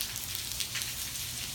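Rain falling during a thunderstorm, a steady, close hiss of drops pattering on surfaces with no pauses, moderately loud and heard alone.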